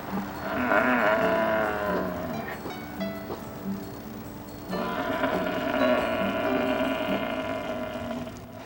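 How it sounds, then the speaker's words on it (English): A herd of bison gives raspy, drawn-out bellows, several overlapping low groaning calls rising and falling in two long waves, fairly close and with no voices. "The raspy bellowing of a bison herd is unmistakable."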